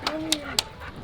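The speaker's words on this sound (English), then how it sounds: "Here comes the killer dog." A dog gives three short sharp barks at a steady pace, close and fairly loud, with a faint whine in between and a bit of ambient noise behind.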